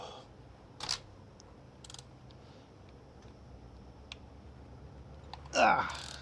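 A ratchet torque wrench set to 100 foot-pounds works on a Mitsubishi Lancer's wheel. It gives a few sharp, close clicks spaced seconds apart over a quiet room tone, with a louder ratcheting burst near the end.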